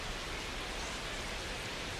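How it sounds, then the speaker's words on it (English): Heavy rain pours steadily over a baseball stadium in MLB The Show 26, a dense unbroken hiss that stays loud and even throughout, with no voices over it. "This rain is not letting up"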